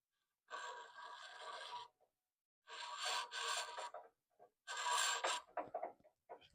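Three bursts of rasping, filing strokes as a turbo 302 piston ring is deburred, each lasting about a second with brief pauses between, close and fairly loud with no talk.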